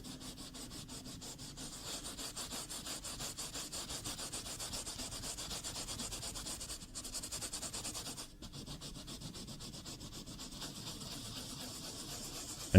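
Scrub fiber rubbed with cleaner across a car door panel's plastic trim makes a soft, steady back-and-forth scrubbing, quiet and rhythmic, with a brief pause partway before the strokes resume.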